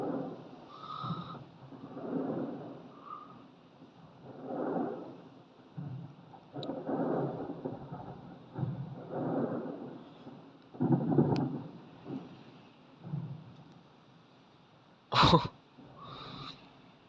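Fireworks at a night display in Spain boom repeatedly from a distance as deep, rolling thuds, with one sharper, louder crack near the end.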